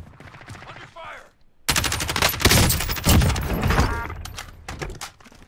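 Heavy gunfire in the Warzone video game, bursts of rapid automatic shots erupting loudly after a brief quieter moment and continuing densely to the end, with a voice faintly present underneath.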